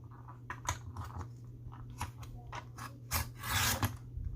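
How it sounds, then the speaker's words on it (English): Scissors-like snips and rasps cut the corner of a sheet of paper on a We R Memory Keepers Pocket Punch Board: a run of short, close, crisp cuts and scrapes, louder toward the end. "Cut corner of paper."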